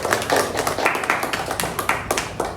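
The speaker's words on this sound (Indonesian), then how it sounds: "Tepuk tangan dulu buat Silvia." A classroom of students claps together for a classmate, a dense, fairly loud burst of hand claps with a few sharper taps standing out, no voices over it.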